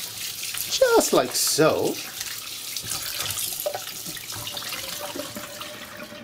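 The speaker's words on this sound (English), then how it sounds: "We're going to rinse the salted beef." Salted beef rinsed under a running kitchen tap while preparing a Surinamese dish; a steady splashing hiss of water runs throughout, with someone speaking briefly near the start.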